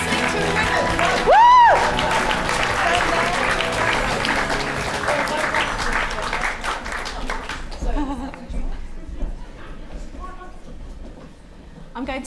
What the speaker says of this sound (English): clapping for the Islington winners